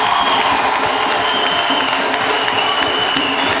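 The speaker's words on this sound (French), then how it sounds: "Acclamons pour Jésus-Christ." A church congregation applauds and cheers for Jesus Christ, a dense, loud, continuous wash of clapping and voices filling the room.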